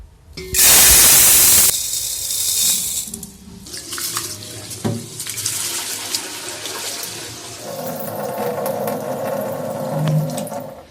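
Running tap water splashes loudly into a vessel as basmati rice is washed, followed by sloshing, swirling water and the clatter of handling in a kitchen.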